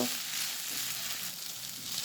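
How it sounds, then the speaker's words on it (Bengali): Noodles fry and are stirred in a pan, giving a steady, close hiss of sizzling oil throughout with no voices. "আরও কিছুক্ষণ নেড়ে ছেড়ে নুডলসটা ভেজে নেব"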